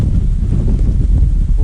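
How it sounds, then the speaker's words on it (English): Wind of 25 mph or more howls across an open field during a blizzard on a goose hunt, a loud, steady low rush buffeting the microphone throughout this short stretch. "So we're picking up geese right now with this wind, 25 mile/hour plus."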